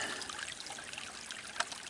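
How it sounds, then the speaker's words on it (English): A small stream running off an old haul road in the Eastern Kentucky woods trickles steadily at low level for about two seconds. A faint splash stands out near the end, and no one speaks over it. "A little stream coming off this old haul road."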